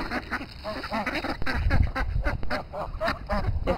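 Poultry in the winter honk and quack in a busy, overlapping chorus of short nasal calls, fairly close, with some low thumps and rustling underneath.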